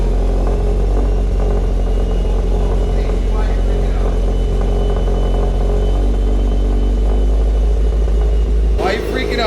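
A 500HP Subaru STI engine idles with a steady, deep rumble close to the microphone, holding an even drone before a brief louder burst near the end.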